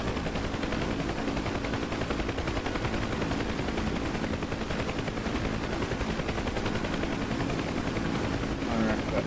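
Rockets firing from a UH-1 Huey helicopter in the DCS flight simulator, a dense and continuous rattling barrage over steady rotor and engine noise with no gaps.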